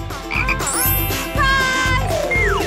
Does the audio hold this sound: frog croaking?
yes